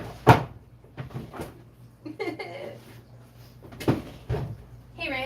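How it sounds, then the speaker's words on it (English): A drawer in a jewelry-making workspace is pulled open, with wooden knocks and rattling contents, several short bumps and slides at close range. "I'll check another drawer."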